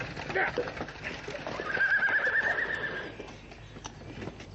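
A horse neighs with a long whinny on a road, its hooves clip-clopping along beneath, loud and near, amid a tense radio-drama scene with voices around it.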